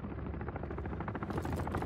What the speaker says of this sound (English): Attack helos pressing hard.